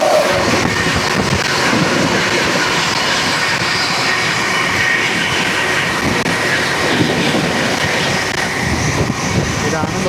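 A New Delhi Express train passes near a junction station on an Indian railway, a steady loud rumble of wheels and carriages with faint clatter, continuous from start to end.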